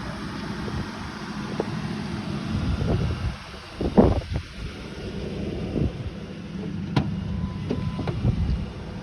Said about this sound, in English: It is running. It is 102 degrees out today, so AC compressor and fans working pretty hard.